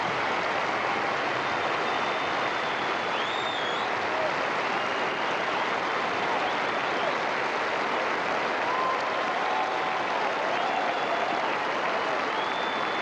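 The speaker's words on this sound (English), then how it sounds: "So the applause around the ground" Sustained applause from a tennis crowd after a Queen's Club semifinal between Hewitt and Sampras, a dense, steady wash of clapping filling the whole stretch at even loudness with no voices.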